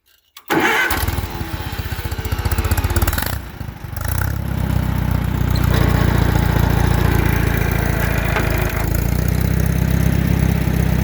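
A WD farm tractor starts up and runs loud and close, with a brief dip near three seconds before it settles into a steady, throbbing engine drone on the way to a plowed field.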